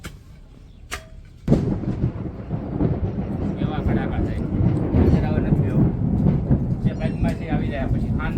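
A thunderclap bursts loud and close during a windstorm with rain over farmland, then a heavy, continuous rumble rolls on for several seconds.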